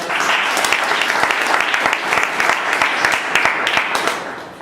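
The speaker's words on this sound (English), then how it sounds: "So let's give him a round of applause" An audience at a meeting applauds warmly, a dense burst of many hands clapping at steady volume with a few sharper individual claps, trailing off at the end.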